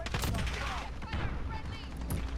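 An M1911 pistol fires in a Call of Duty: Modern Warfare match, with sharp, rapid shots and game effects cracking close together, and a voice speaking faintly beneath.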